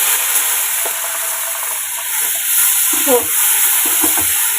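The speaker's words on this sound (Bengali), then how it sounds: "এবার আমি এর মধ্যে জল দিয়ে দিচ্ছি" Water hits a hot pan of hilsa fish and eggplant in mustard sauce, setting off a loud, steady hiss of sizzling and steam, with a brief bubbling flare near the end.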